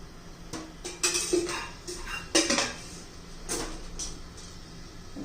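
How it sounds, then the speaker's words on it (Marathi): Spoon mixing jowar (sorghum) batter with a spoonful of oil in a bowl: intermittent clinks and scrapes against the bowl, close and moderately loud, with no talking. "छान मिक्स करून घेऊया."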